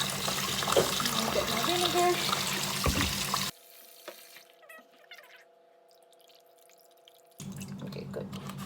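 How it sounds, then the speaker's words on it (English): A kitchen tap runs in a steady, loud rush of water while stew beef is washed, cutting off partway and then starting again, with a person speaking briefly. "So I'm going to wash it with some water, turn on the water"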